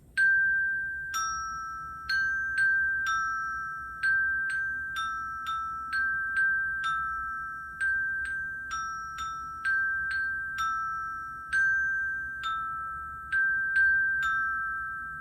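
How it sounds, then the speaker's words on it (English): Bright metallic bell tones ring out one after another in a simple melody, each note sustaining and fading, played alone and clearly. "that's what it would sound like on the step bells"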